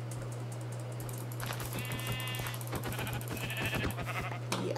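Sheep bleat in Minecraft, two or three short wavering calls close by over a steady low hum, with faint keyboard clicks scattered underneath.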